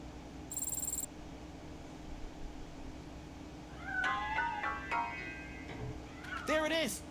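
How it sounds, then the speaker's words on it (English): A cat meows in the game Robocop: Rogue City, two short rising calls around the middle and a longer wavering meow near the end, heard moderately close over a steady low ambient hum. "That cat must be hiding inside."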